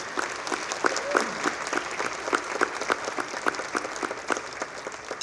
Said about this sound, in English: can we just give a round of applause for our staff and for everybody that put this together